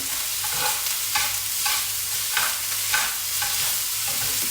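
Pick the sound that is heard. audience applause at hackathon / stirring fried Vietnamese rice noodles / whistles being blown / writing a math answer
stirring fried Vietnamese rice noodles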